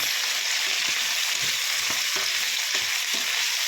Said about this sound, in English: You need to stir the onions